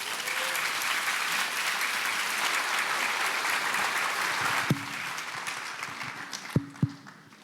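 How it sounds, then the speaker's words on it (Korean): A church audience at a national elders' retreat gives steady, sustained applause to welcome a pastor onto the stage to lecture, with a few sharp bumps near the end. "목사님 나오실 때에 큰 박수로 환영해 주시기 바랍니다"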